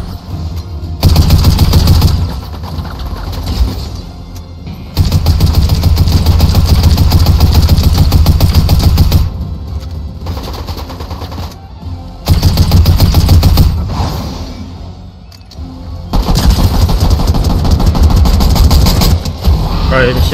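Video game gunfire rattles in long, loud automatic bursts separated by short pauses, with an engine-like drone underneath. A player's voice talks over the shooting.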